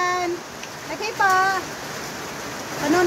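Steady rain falling outdoors, a dense even hiss throughout with a voice speaking over it in the background.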